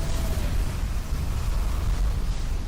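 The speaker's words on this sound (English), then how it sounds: "Honestly, some really high quality explosions here." A dense, loud rumble of explosions in the video game Xenosaga Episode 1 rolls on without a break, with heavy low booms and a crackling burst texture and no one speaking.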